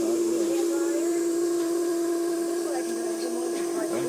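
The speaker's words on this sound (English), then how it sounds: "No, it's just leaking a lot of steam." Steam leaks from a model steam mill engine with a horizontal boiler, a continuous close hiss with a steady tonal whine running underneath while people talk nearby.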